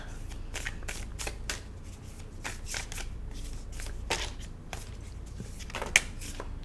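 A deck of tarot cards is shuffled by hand in steady bursts of riffling and snapping card edges, close and continuous throughout, with no talking.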